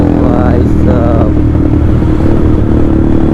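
Splendor motorcycle engine roaring while the rider pulls a wheelie on a road: a loud, steady, close drone with rough mechanical clatter throughout and a voice briefly audible over it.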